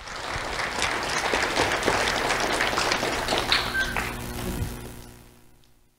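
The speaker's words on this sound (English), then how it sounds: "Let's have a round of applause for Jacob Wilson." Applause from an audience for award recipient Jacob Wilson at a Do The Right Thing Awards ceremony, a dense burst of clapping that holds steady, then fades away over the final second.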